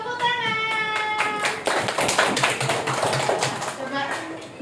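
A fourth-grade primary school class claps after a poem recital, a burst of scattered hand claps rising partway through beneath a teacher's voice, which speaks clearly at the start and continues over the clapping.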